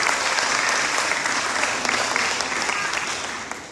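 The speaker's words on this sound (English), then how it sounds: "can we give them a round of applause for that?" Dense, steady applause from a live audience at a talk on children's mental strength, a continuous wash of many hands clapping that holds strong before tapering slightly at the end.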